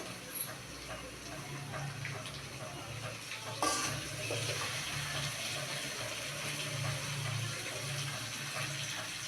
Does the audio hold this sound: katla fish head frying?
yes